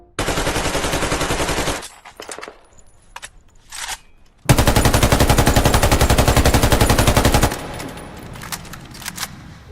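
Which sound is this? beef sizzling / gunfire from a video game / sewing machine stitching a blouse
gunfire from a video game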